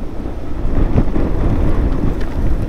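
Stormy wind buffets the microphone in a steady, loud roar with low rumbling gusts, heard alone along a roadside dhaba stop during a motorcycle ride from Uttar Pradesh to Ladakh near Pathankot.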